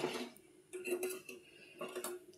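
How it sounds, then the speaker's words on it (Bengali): A metal wok (kadai) set down on a home stove while cooking an egg curry, giving a few sharp clanks and rattles close by, separated by brief quiet gaps. "এই যে কড়াই বসিয়ে দিয়েছি।"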